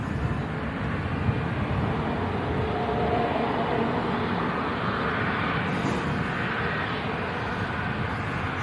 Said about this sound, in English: tanker leased by Jet2 climbs out of Manchester